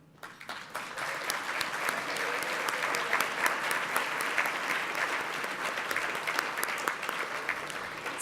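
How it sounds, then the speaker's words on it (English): A homecoming audience at a distinguished alumni awards event breaks into sustained applause, many hands clapping steadily and densely from a quiet start to a full, even roar. "don't hold your applause"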